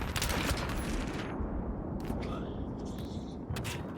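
Rapid automatic gunfire in the shooter game Battlefield 3, a dense burst of close shots for about a second and a half, then scattered sharp cracks over a rumbling battle backdrop.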